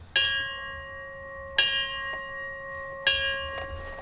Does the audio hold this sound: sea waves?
no